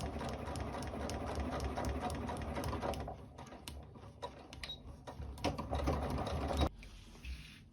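A sewing machine with a standard foot stitches the back seam of a dress lining: a quiet, steady mechanical whir that runs for several seconds and then stops abruptly.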